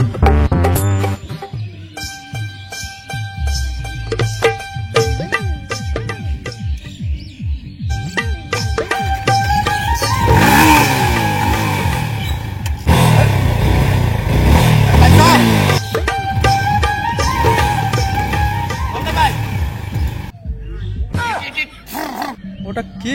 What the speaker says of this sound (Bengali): ভাই কার বাইক রে এটা?